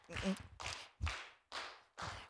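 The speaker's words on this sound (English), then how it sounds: "I need some kind of beat with your, if you clap your hands, clap, clap, let's go" A church congregation at a Sunday service claps together to a steady beat, five distinct rhythmic claps about half a second apart, as the leader prepares to sing a song in Spanish.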